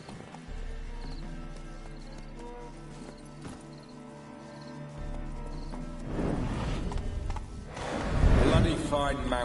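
Horse hooves clip-clop steadily in The Witcher 3, a galloping mount close by over game music and ambience, with a louder whinny and snorting rising toward the end.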